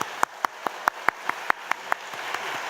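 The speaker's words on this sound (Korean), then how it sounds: "우리 총장님께 박수 드리겠습니다." A church congregation claps for a university president in a slow, even rhythm of about ten sharp, evenly spaced claps over a quiet room.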